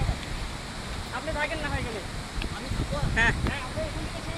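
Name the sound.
Amiakhum waterfall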